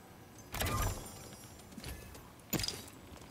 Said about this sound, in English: Listen out for them footsteps.